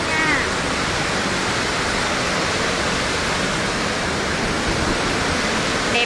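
Dray Nur waterfall in the Central Highlands forest thunders as a dense, unbroken roar of falling water, loud and close and constant throughout.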